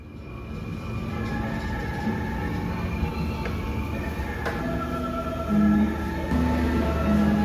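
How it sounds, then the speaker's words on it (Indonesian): Serayu passenger train pulling out of Kiara Condong station in Bandung, heard from aboard: a steady low rumble of the rail carriage with faint creaks and clicks, and a few brief tonal whines near the end as the train gets moving. "kereta api Serayu dengan nomor keberangkatan 288 yang kita naikin ini langsung diberangkatkan dari stasiun Kiara Condong"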